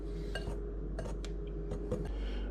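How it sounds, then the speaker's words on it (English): A whisk works through flour, salt and baking soda in a bowl for chocolate chip cookie dough, giving a run of light, irregular clinks and taps against the bowl over a low steady hum, close and fairly quiet. "Whisk it up, get it nice and fluffy."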